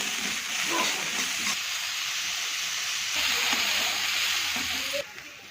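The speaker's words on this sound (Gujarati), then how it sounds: "ડુંગળી નાખી દઈએ," Onion hits hot oil in a kadai, giving a continuous close sizzling hiss that swells midway and then drops away abruptly near the end.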